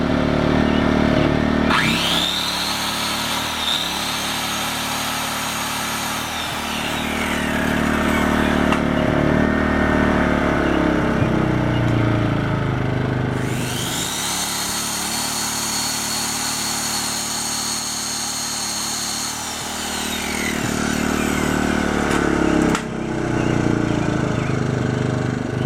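A Troy-Bilt portable generator's small engine runs continuously under an 11 amp load, a loud rough drone that labors and shifts pitch in a couple of surges before settling back to a steady hum.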